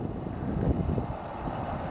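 Low, steady wind rumble buffets the microphone outdoors while a Park Zone Spitfire RC plane hovers into a 10 mph breeze, the dull roar swelling slightly midway with no voices.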